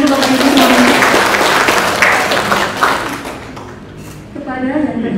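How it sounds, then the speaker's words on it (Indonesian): An audience at an Indonesian health-office meeting claps loudly and steadily, then the applause fades, and a voice over a PA speaks at the very end. "Tepuk tangan dulu Bapak Ibu semuanya."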